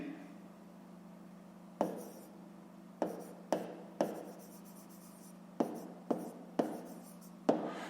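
Chalk or pen strokes on a board during a fifth-grade maths lesson come as sharp, separate taps and short scratches, about nine of them with uneven gaps, over a steady low hum.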